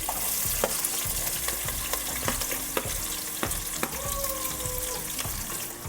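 Green chillies and onions fry in a pan, producing a loud, unbroken sizzle close by, with repeated stirring scrapes and taps throughout.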